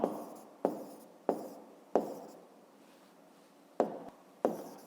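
Chalk or pen strokes writing a math exercise by hand: a handful of sharp taps, each trailing into a short scratchy stroke, spaced irregularly and fairly faint, with no talking.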